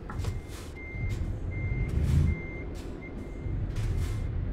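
Reversing beeps from a truck in a driving video game sound as a steady series of evenly spaced high electronic tones, over a low rumbling engine with a hiss of air, no talk.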